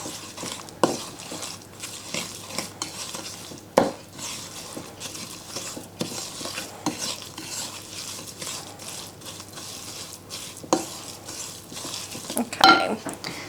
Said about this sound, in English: We're just going to stir and combine.